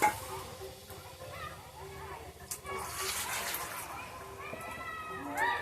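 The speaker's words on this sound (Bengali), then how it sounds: "আমি এই স্যুপটা এবার এর মধ্যে ঢেলে দিচ্ছি।" Chicken tomato soup is poured into a pot, a soft liquid splashing and sloshing heard under someone speaking.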